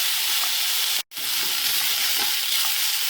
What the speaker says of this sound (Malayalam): ഹൈ ഫ്ലെയിമിലായിരിക്കണം ഇത് വഴറ്റി എടുക്കേണ്ടത്.